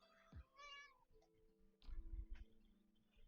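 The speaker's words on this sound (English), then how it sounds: "Damn cat" A house cat meows once, a clear, harmonically rich cry up close, followed by low rustling and thumps as it moves about.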